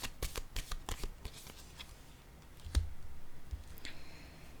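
Tarot cards shuffled by hand in a series of quick, crisp riffling clicks and flicks, close and fairly quiet, with a louder snap near the end and no voices.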